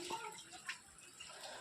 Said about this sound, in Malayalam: അപ്പോൾ നമുക്ക് ആദ്യം കുറച്ചും കൂടി ഒന്ന് വെള്ളം ഒഴിച്ച് നോക്കി നോക്കാം